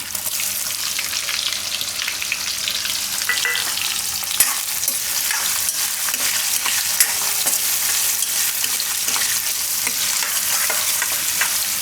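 Onion frying in hot oil: a loud, dense, continuous sizzle with faint stirring scrapes, steady from start to end without any voices.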